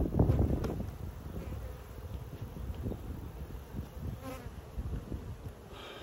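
Honey bees buzz around their hives outdoors, a steady low drone of many insects with some wind rumble against the microphone.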